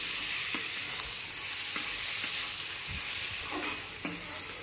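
Cumin and black pepper powder are stirred into sautéed capsicum in a pan over a steady hiss of frying, with several scattered scrapes and taps from the spoon.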